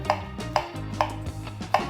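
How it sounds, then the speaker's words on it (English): Knife slicing thin courgettes into rounds on a board, four crisp, evenly spaced cuts close by with faint kitchen background and no talk. "Last thing, just the courgettes. And they're nice and thin. Just gonna slice them into little rounds."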